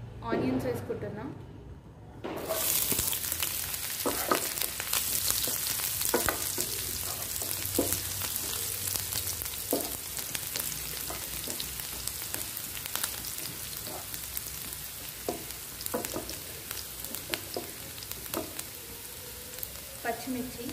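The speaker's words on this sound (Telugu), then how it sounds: "ఆయిల్ హీట్ అయినాక ఆనియన్స్ వేసుకుంటున్నాం" Onions drop into hot oil in a pan for tomato rice and burst into a loud, continuous sizzle and crackle with scattered pops and spatter, following a short quieter moment at the start.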